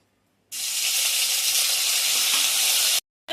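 Ginger and green chili paste drops into hot oil with whole garam masala spices, bursting into a loud, steady hiss and sizzle that holds for about two and a half seconds before cutting off abruptly.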